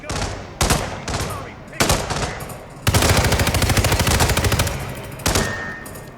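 Rapid automatic gunfire from the game Hitman 3, several loud bursts of shots, with one long sustained volley in the middle, all close and dominant, with no talking.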